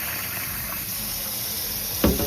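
Tap water runs in a steady, loud stream over boiled sausages on a plate to cool them, with a brief sharper splash near the end.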